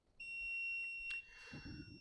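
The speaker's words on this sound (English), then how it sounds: "It's gonna beep until you do something." An Apple heated opening machine gives a steady, high electronic beep that holds for about a second, followed by a short click and a soft rustle, with no one speaking.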